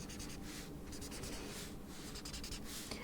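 Close, faint scratching of a marker drawing tight zigzag lines on paper, in quick repeated strokes with short pauses between them.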